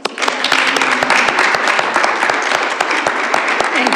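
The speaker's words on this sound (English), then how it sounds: "I'm going to clap." Steady, close clapping from a small group at a council meeting, with sharp individual claps audible throughout a few seconds of even, moderately loud applause.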